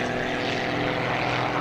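Red Bull propeller stunt plane flying, a steady, loud, continuous engine and propeller drone throughout with no talk.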